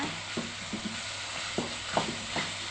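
A Thai snack filling with roasted peanuts being stir-fried in a pan, with soft repeated spatula scrapes and light sizzling at close range, fairly quiet and with no talking.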